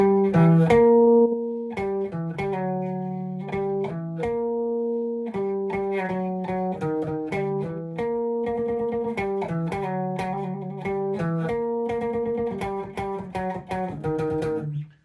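A melodic bass guitar riff plays alone, plucked notes in a repeating rhythmic pattern with short pauses, clear and close.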